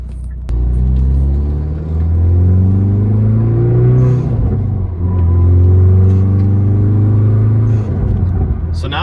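Manual-transmission car driving on a road, with a steady low engine rumble that rises and falls as revs climb and drop through gear changes, loud and continuous throughout.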